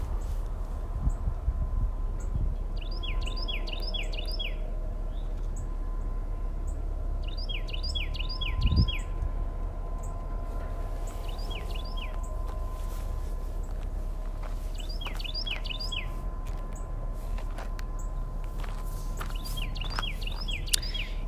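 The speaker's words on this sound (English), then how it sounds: "Yep, we do have a lot of birds." Small outdoor birds near a railway in Chattanooga, Tennessee chirp in quick clustered bursts every few seconds, fairly distant, over a low steady background hum and occasional faint clicks.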